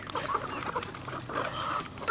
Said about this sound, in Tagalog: Naririnig mo lang yung pagtuka ng mga manok.